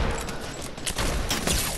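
Gunfire in Fortnite during a headshot, a quick cluster of sharp, loud shots cracking in succession over a short burst.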